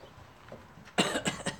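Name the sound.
cough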